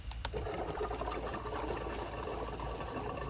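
A steady watery rush and gurgle of a Hayward pool pump running with air in the line, continuous and fairly loud, with a low mechanical hum underneath.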